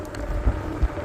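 Wind rushes and buffets against the microphone of someone riding an electric bike, a low rumbling roar with brief thumping gusts.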